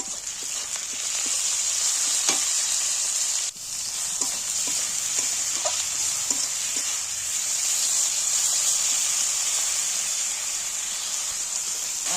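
Ginger and garlic paste fry with tomato in a pan, producing a continuous hissing sizzle with occasional soft pops and stirring scrapes, fairly close and steady, with no talking.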